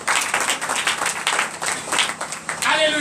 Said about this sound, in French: Donnez l'acclamation à eux.